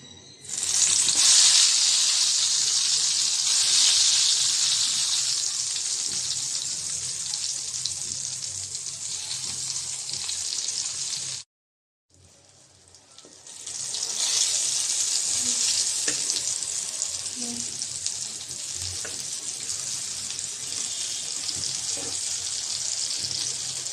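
Spice-coated eggplant slices frying in hot oil, a loud, bright continuous sizzle that stops briefly midway and then resumes, with faint clinks near the end.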